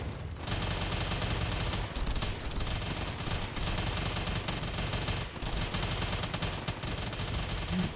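Continuous rapid gunfire in the shooter game The First Descendant, aimed at a boss, a dense, loud, unbroken stream of automatic shots with no pauses and no voices.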